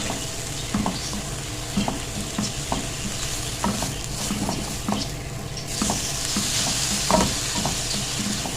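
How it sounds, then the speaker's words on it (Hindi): Ground coriander and cumin stirred into a sizzling tomato masala in a pan for stuffed karela, a constant frying hiss with irregular scraping taps of the spoon against the pan, no talk. "अब इन मसालों को अच्छे से मिक्स कर देंगे।"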